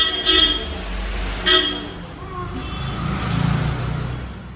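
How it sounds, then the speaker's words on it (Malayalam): Vehicle pulling up on a road in Kerala and honking, two short, sharp horn toots near the start, then an engine rumbling and revving as it comes close, with voices in the background. "ഞങ്ങളുടെ വണ്ടി വന്നു ഞങ്ങളുടെ വണ്ടി വന്നു."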